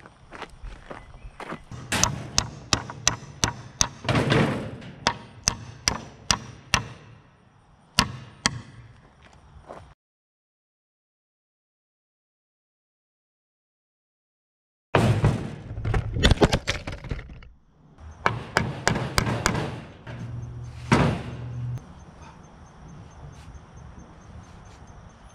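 Sharp, repeated hammer-like strikes in two bursts separated by a silent gap, loud and close, with irregular rhythm.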